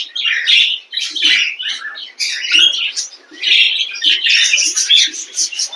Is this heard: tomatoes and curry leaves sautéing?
no